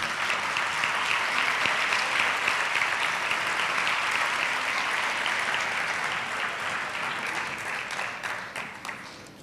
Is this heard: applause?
yes